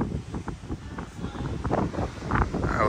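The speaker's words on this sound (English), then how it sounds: "it's a little windy out." Wind buffets the microphone on a cruise ship balcony aboard the Carnival Mardi Gras, a steady broadband rush that swells and gusts throughout, with faint sea or engine noise beneath and no talk.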